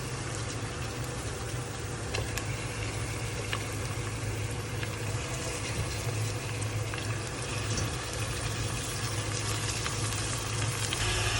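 Chicken sautéing with onions and garlic in a pan for a Filipino-style biryani, giving a steady, close sizzle with faint stirring and scraping throughout and no talking.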